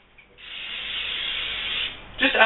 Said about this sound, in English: we're going to take our cooking spray and slowly